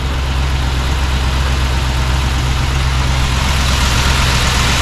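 A Packard car engine idles cold at the tailpipe, its steady low rumble loud and close, running evenly with no voices.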